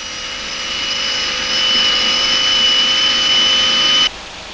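ČKD diesel locomotive engine for the T478.3 running on a test bench and climbing toward 3,000 RPM, a steady high whine with rising pitch that cuts off abruptly near the end, no talk.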